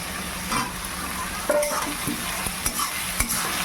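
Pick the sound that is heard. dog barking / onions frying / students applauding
onions frying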